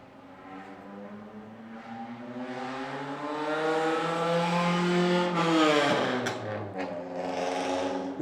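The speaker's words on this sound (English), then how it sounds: "That's actually a car making that noise." A car roars past at night with a loud, harmonic, motorcycle-like engine note that climbs steadily, peaks close by, then drops in pitch as it moves away, with no voices over it.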